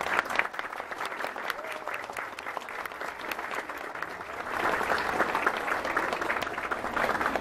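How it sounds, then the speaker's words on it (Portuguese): A church congregation claps during a Mass, a continuous even round of applause that grows slightly louder toward the end, heard from within the crowd at moderate volume. "Uma salva de palmas ao menino Jesus."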